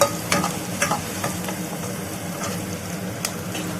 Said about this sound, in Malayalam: ഈ സവാള ഇടുകയാണ്. എന്നിട്ട് ഞാൻ അതും ഒന്ന് ചെറിയൊരു ഷാലോ ഫ്രൈ ചെയ്ത ശേഷം